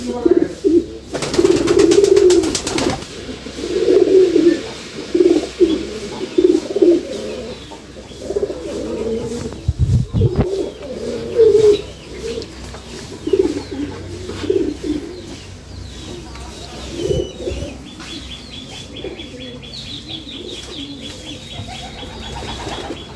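Pigeons coo steadily in a renovated mud-floored pigeon house as they drink water, with low throaty calls repeating through the stretch and a burst of wing flapping near the start.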